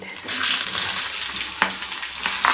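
Green chilies frying in hot oil with crushed cumin for a mirchi recipe, a steady close sizzle with a few sharp crackles and spits as the chilies hit the pan, no talking.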